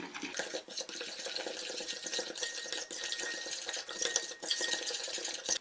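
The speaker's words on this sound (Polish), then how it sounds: "Wszystko dokładnie wymieszam." A marinade of oil, ground black pepper and salt is mixed thoroughly with a utensil, giving a steady, close scraping and swishing stir with light clinks throughout. No speech.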